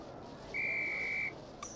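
A single steady, high-pitched whistle blast in the Harry Potter and the Philosopher's Stone video game, held for under a second against a quiet background hum, followed by a brief faint chime.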